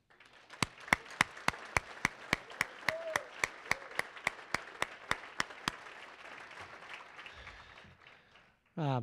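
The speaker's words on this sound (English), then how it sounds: "we all need to give a big hand of applause for Nicole" An audience at a USA Boxing alumni association reception applauds Nicole: crisp, evenly spaced claps ring out over a dense wash of crowd clapping that stays steady, then thins and fades away near the end.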